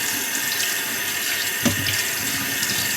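Fresh fish fillets are rinsed under a running tap at a sink, giving a steady, close rush of water with a brief splash as the flow hits the flesh.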